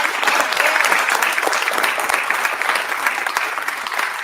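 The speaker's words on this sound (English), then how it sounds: "let's give him a round of applause" A conference audience bursts into loud, sustained applause, with dense, close clapping holding steady and fading only slightly toward the end.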